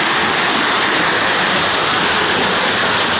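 Uwan uwanan falls pours steadily in a loud, unbroken broadband rush of falling water, close by and alone with no voices over it.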